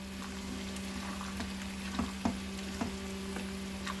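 Paneer cubes drop into a yogurt and spice masala frying in a pan, giving a steady close sizzle broken by a few sharp stirring clicks, with no talking.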